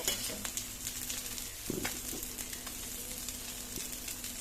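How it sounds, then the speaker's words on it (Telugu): Cabbage omelette frying in oil in a pan, a quiet steady sizzle with a faint hum and a few soft clicks of a spoon, no voices. "ఇలా వేసుకున్న తర్వాత చుట్టూ ఆయిల్ వేసుకోవాలండి"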